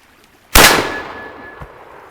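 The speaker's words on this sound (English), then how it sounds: "How about that one hanging from the tree?" A single sharp gunshot from a .44 Magnum fired outdoors cracks loud and close, then rings out in a long fading tail with a faint metallic ping from a target hanging in a tree.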